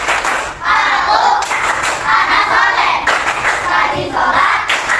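Group of children rhythmically clapping and chanting the Tepuk anak soleh chant, loud close claps in steady patterns interleaved with their shouted voices.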